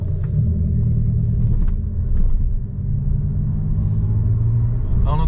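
An electric Abarth 500 drives with its synthetic sound switched on, giving a steady low engine-like rumble and drone that holds throughout at moderate loudness, with faint cabin noises above it.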